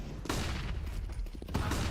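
Grenade explosions and gunfire in a professional CS:GO match, bursts of blasts and shots, with a sharp loud burst near the start and another louder one near the end, over steady background noise.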